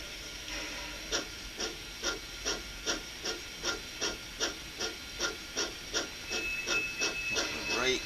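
An N gauge model train runs into Colville Station with a steady hiss and regular rhythmic clicks of wheels over rail joints, about twelve even beats, close and moderately quiet.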